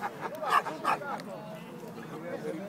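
Small dogs yip and whimper at a festive Christmas gathering at a seaside bathing establishment in Falconara Marittima, a few short barks near the start under constant crowd chatter and talk.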